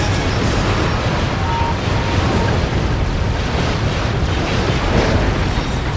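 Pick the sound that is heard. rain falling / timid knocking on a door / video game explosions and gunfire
video game explosions and gunfire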